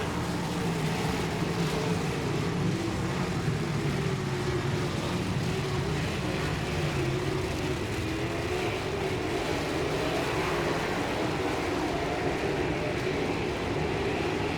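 Sprint cars roar around a dirt oval at Paragon Speedway after a green flag restart, a dense, continuous engine drone filling the air from start to end, with no voices.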